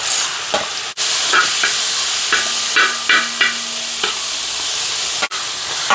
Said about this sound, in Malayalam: അതൊന്ന് നെയ്ക്കകത്ത് കിടന്ന് ഒന്ന് വരളട്ടെ.